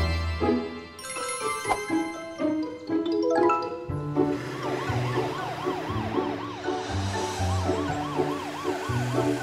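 A cartoon ambulance siren wails in a rising and falling two-tone loop, loud and continuous, following a bright musical flourish in a children's animated show.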